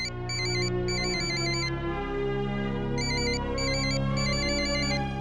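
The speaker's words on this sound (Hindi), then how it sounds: "बाबूजी, वैशाली का फोन है।" A telephone rings in a Hindi family drama with a repeating electronic trill in bursts, over steady background music and without any talk.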